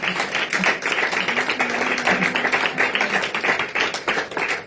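A congregation at a New Year's crossing-night church service claps rhythmically together, a steady dense patter of many hands at close range with no talk over it.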